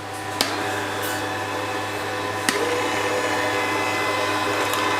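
Three Ocean cold press slow juicers run together on carrots, giving a steady, close motor drone with a low hum and two sharp clicks, no voices.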